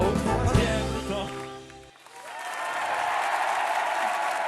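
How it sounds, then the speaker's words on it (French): A TV studio audience on the French game show N'oubliez pas les paroles applauds Hervé: music with voices fades out, then steady, dense clapping fills the rest, loud and continuous. "Non seulement on peut applaudir Hervé,"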